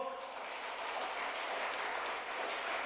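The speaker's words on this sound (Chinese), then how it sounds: "再一次拍手" A church congregation applauds during a Sunday service, a soft, even wash of many hands clapping that sounds fairly distant and steady throughout.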